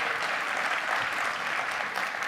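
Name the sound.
audience applause for guest Baruch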